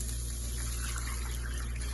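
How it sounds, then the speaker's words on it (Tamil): Two cups of water poured into a pan for Maggi noodles, a steady close gushing splash that holds at an even level throughout, with no talking. "நம்ம நூடுல்ஸ்க்கு தேவையான அளவு தண்ணி சேர்த்துக்க போகிறோம்"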